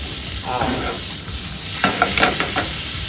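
Scallops searing in butter in a hot pan, a steady close sizzle with a few sharper spatters and clinks toward the end.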